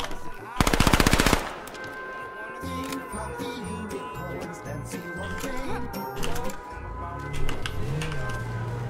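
Rapid MP7 submachine-gun fire in the H1Z1 battle royale game: one loud, dense burst up front, followed by scattered game clatter and a faint sustained tone.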